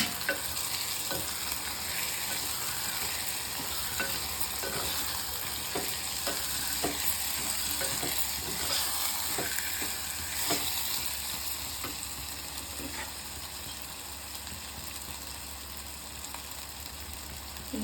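Pieces of cut shark fish fry steadily in a pan with a continuous close sizzle, punctuated by light clicks of stirring, with no talking.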